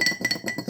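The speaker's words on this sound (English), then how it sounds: "we're going to give that a bit of a stir" Spoon clinking repeatedly against a glass of water while paprika floating on top is stirred in, a quick series of light, bright taps close up.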